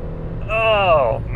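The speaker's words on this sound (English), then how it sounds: "There was a decent amount of wheel hop there." A 2011 Kia Soul with a five-speed manual accelerates hard, its engine note rising in a strained harmonic sweep for about a second, with wheel hop under load; the sound is close and fairly loud.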